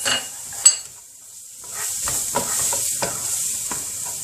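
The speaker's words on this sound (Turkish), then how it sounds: "Salçamızı bir güzel karıştırıyoruz." Tomato paste stirred into lightly browned onions in a pot: a soft sizzle with a spoon clink, a brief quiet lull, then scraping and stirring over the steady frying hiss.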